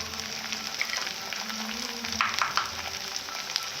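A quiet, steady sizzle of ginger and garlic frying in a pan, with light stirring scrapes and a brief louder crackle midway; nobody talks.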